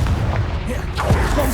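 Confringo spell blast in the Hogwarts Legacy video game: a dense, booming burst with a rumbling low end and crackling impact, loud and close over a continuous roar of game effects.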